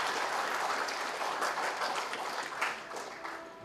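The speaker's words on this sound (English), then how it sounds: "Round of applause also for Dr. T. Shekhar, who will be speaking to us." An audience claps at a memorial lecture in a hall, a steady wash of applause from many people at moderate, somewhat distant level that holds evenly for a few seconds with no speech.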